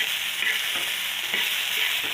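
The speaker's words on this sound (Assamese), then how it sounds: "এতিয়া তাৰে লগত এখন ভাজি বনাই আছোঁ ৰ'ব চাই থাকাচোন ভাজি বনাই আছোঁ মছলা আৰু আলু" Potato and spice bhaji frying in a pan gives a steady, close, loud sizzle with faint stirring scrapes underneath, unbroken throughout and without any voices.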